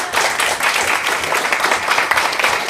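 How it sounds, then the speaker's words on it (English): An audience in a motivational talk claps loudly and continuously, a dense close burst of applause with no voices over it. "So give it up for Greg, everybody."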